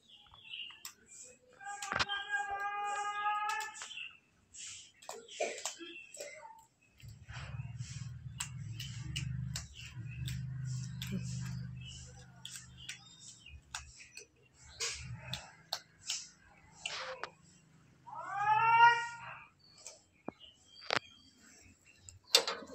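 Neighbourhood cat meowing a couple of times amid clicks and household clatter, with a low rumble in the middle and faint background sounds.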